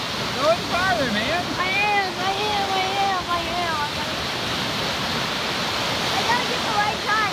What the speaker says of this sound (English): Crashing waves are loud, man